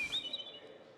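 A faint, brief electronic bird chirp from the Overwatch robot's bird companion, a single high whistling sweep over a soft background.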